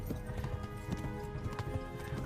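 Galloping horse hooves in the medieval game Kingdom Come: Deliverance, a fast steady clip-clop rhythm pounding close and loud, with a faint whinny and game music underneath.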